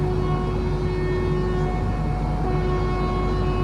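The 12517 Garib Rath Express from Kolkata to Guwahati begins to pull away on a rainy day, a loud, steady low rumble with a sustained tonal hum running throughout.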